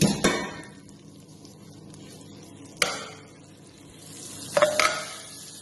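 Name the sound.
frying crushed garlic and chili peppers in a pan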